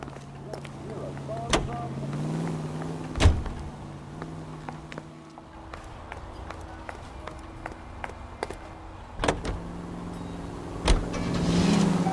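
A car being driven in the video game L.A. Noire, its engine a steady drone with occasional bumps and clicks, running under faint background voices.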